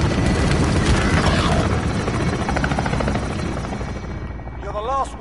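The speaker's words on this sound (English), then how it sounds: "Enemy chopper gunner" An enemy chopper gunner helicopter in the Modern Warfare video game, its rotor throbbing loud and close throughout, with faint voices near the end.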